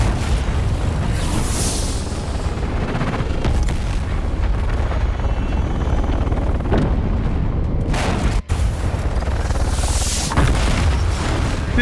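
Rockets fired from an ornithopter in the Dune: Awakening survival game, loud booming launches and blasts over a constant rumbling roar, with a brief sharp dropout near the end and no talking.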